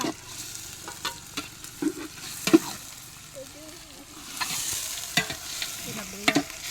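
Tomatoes and green chillies sautéing in a pan for chicken biryani, giving a low sizzle broken by intermittent spatula scrapes and knocks, with faint voices in the background.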